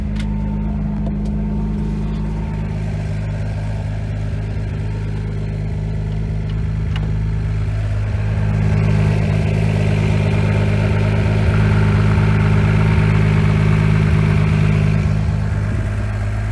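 A 2JZ car engine idles steadily at just over 1,000 RPM, its low, even rumble heard from outside the vehicle and swelling slightly louder partway through.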